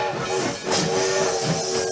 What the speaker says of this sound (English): was startled awake by the sound of a passenger train screeching to a stop